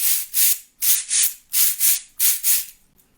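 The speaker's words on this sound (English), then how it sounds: "We had the cabasa." A cabasa scrapes in a steady rhythm: seven or so crisp, raspy swishes in pairs, close and clear with no other sound.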